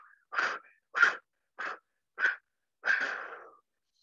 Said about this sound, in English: Maybe fire breath here